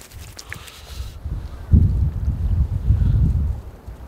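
Strong gusty wind at a lake during cold spring crappie fishing roars low and rumbling into the microphone, swelling after a quieter start and buffeting steadily.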